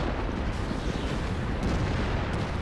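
A T49 light tank's 152mm gun in World of Tanks gives a dense, continuous booming roar that fills the short stretch, loud and close with no distinct separate shots.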